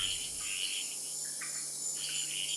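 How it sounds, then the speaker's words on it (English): Frogs and toads calling at night in jungle near the Caribbean, a continuous chorus of high trilling and chirping calls in overlapping pulses, faint and steady with no voices. "Every species of frog and toad has its own song, all in search of a mate."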